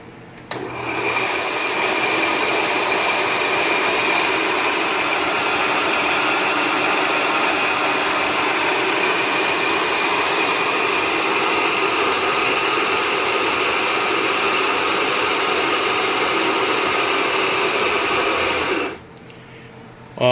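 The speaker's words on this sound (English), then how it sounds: "this phase converter has a 3 horsepower idler motor" A rotary phase converter with a 3 horsepower idler motor spins up and runs with a loud, steady whirring hum and broadband hiss, holding constant for many seconds before cutting off near the end.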